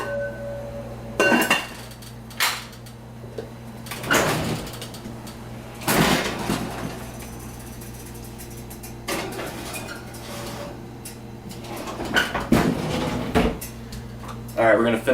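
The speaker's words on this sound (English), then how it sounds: "cover it, we're going to put it in the oven." A lid clanks onto a pot of brown and wild rice and it goes into the oven, with several sharp metallic knocks, a rattling door and clinks over a low steady hum.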